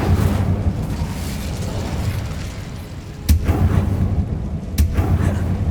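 Booming blasts from the Bombarda explosion spell in the Hogwarts Legacy video game, two sharp loud bursts with rumbling low ends over continuous game ambience.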